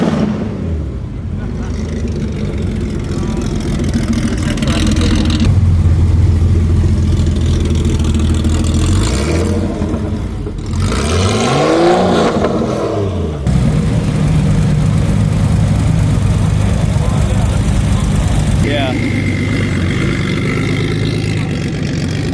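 An RWB GT3 Cup car's engine idles and revs at an outdoor car showcase in Chicago, loud and close, with a rising and falling sweep midway, while people talk over it.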